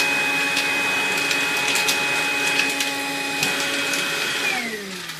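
Makita XLC02 18V cordless compact lithium-ion vacuum cleaner runs with a steady motor whine while sucking up screws, bolts and washers, with scattered clicks and rattles of metal parts, winding down near the end.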